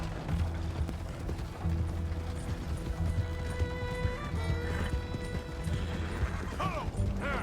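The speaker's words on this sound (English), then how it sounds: "This horse can't run at all." Horse hooves clip-clop in a fast, steady rhythm while riding in the Red Dead Redemption 2 game, close and prominent, with faint mechanical rattling and a whinny, and no speech over it.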